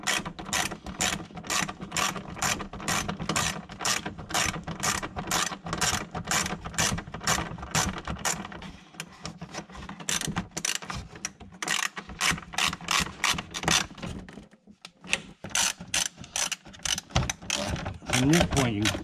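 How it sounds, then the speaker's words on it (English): A ratchet with an extension and socket fastens parts of a Stage 3 aero kit on a C7 Corvette, producing long runs of rapid, crisp clicking up close, with brief pauses and some speech nearby. "get that ratchet and extension and the socket, and we'll get her back on"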